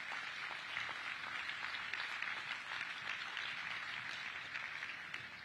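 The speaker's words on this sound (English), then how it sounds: "round of applause for that." Audience at a groundbreaking ceremony for a Cleveland Clinic performance center applauding, a steady wash of distant, fairly quiet clapping sustained throughout.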